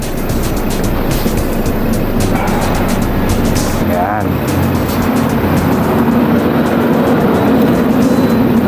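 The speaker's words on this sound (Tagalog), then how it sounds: "So ang motor natin ngayon is NMAX version 2." Yamaha NMAX version 2 scooter riding on an open road in Bulacan, with a loud, steady wind-buffeted engine drone running throughout and a brief voice over it.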